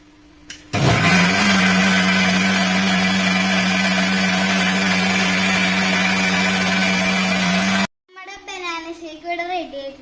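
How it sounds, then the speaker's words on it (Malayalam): A kitchen mixer blends banana juice with sugar, a loud steady whir running continuously for about seven seconds before cutting off abruptly, followed by brief voices. "ഇനി നമുക്ക് ഇതിനെ മിക്സിയിലിട്ട് അടിക്കാം."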